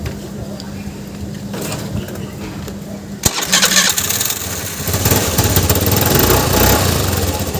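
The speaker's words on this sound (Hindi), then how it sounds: "पहले मैं आपको एक बार स्टार्ट करके गाड़ी को दिखा दे रहा हूँ।" A Suzuki SS 125cc motorcycle's self-starter whirs briefly, then the engine catches and runs at a rough, steady idle nearby; a voice is heard in the background.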